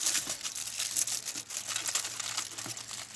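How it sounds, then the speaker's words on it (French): Continuous close crinkling and crumpling of aluminium foil being rolled into a thick roll, dense and bright, with no talking. "j'arrache une feuille de papier aluminium, je l'enroule pour faire un gros rouleau de papier aluminium"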